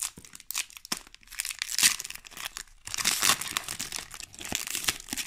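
A 1999 Pokémon Action Flipz Series One booster pack is torn open up close, with bursts of crinkling foil and tearing plastic coming in irregular rustling waves and short pauses between them.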